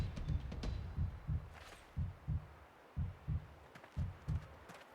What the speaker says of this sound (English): You can hear my heart beating.